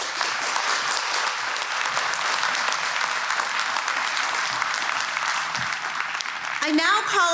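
Sustained applause from an audience at a college ceremony honoring retiring faculty, dense steady clapping filling the room for several seconds before a voice begins speaking near the end.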